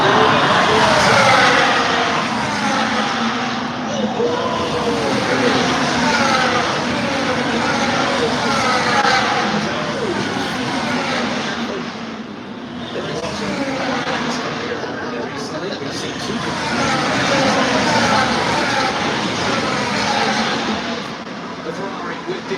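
Formula 1 cars race around the Las Vegas Grand Prix street circuit, engines droning and swelling as cars pass, with race commentary talking over the top throughout.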